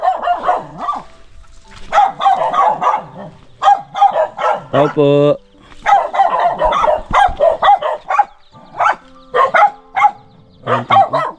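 Dogs bark intermittently, several sharp barks mixed among a person's calls and talk, moderately close.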